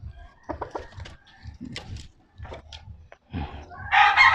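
A black Kelso gamecock rooster crows loudly nearby in short bursts, with a few clucks, and a final harsh, noisy burst at the end.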